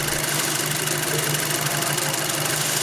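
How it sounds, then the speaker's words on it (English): A Volkswagen GTI engine idles steadily nearby, a continuous even hum with a faint knocking texture and no talking. "The engine sounds pretty good to me."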